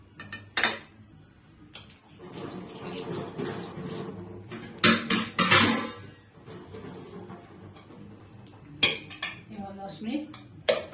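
Pots, pans and cutlery clatter in a home kitchen as a lid goes onto a pot of hilsa curry with eggplant, with sharp metallic knocks at intervals over a low background and some soft speech.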